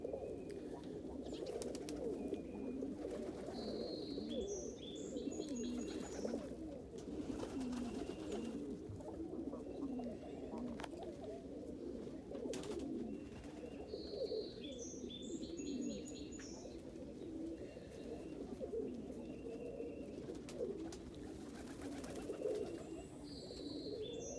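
Pigeons cooing in a loft, a steady low murmur of many birds throughout with occasional chirps and brief wing flutters, close and continuous without talk.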